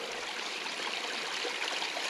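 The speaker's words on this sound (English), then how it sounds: "Could hear water down here off in the valley" Small spring-fed stream trickling down in a valley, a steady hissing babble of running water, close and even throughout with no voices.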